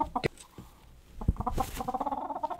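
A chicken clucks in a series of quick, close pulses toward the end, preceded by a few thumps and scattered noises.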